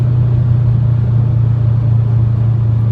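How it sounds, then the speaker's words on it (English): A 2005 Subaru Legacy GT with its turbocharged engine under way gives a loud, steady low drone heard from inside the cabin, the engine note holding even with no talking. "then we take off, let the turbo boost, hit 4th gear, boom, up to almost 100 miles an hour"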